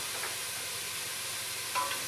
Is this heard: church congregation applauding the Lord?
no